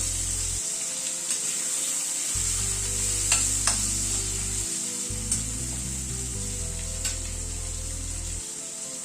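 Potato and squash pieces frying in a pan with salt and turmeric, a loud continuous hiss and sizzle with occasional stirring clicks, close and steady throughout.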